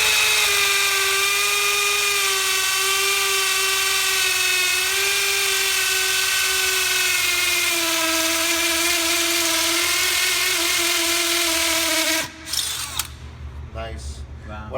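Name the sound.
DeWALT DCD996 brushless drill motor bearing down while drilling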